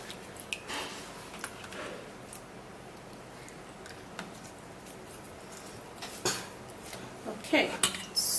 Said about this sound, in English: Then I will grab a pot.